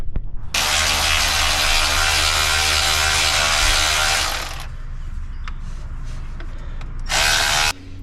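A power tool drives bolts and screws back into a Toyota Tacoma during reassembly after an oil leak repair, a loud whirring burst lasting several seconds, a quieter pause, then a second short burst.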